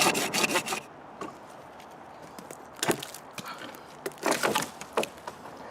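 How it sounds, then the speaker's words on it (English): Folding saw cutting through resinous fatwood close to the base of the stump, close rhythmic rasping strokes in two or three bursts separated by quieter pauses. "I'm actually going to go with a folding saw today"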